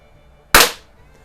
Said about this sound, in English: let's go ahead and shoot 5 shots with the Meisterkugels here first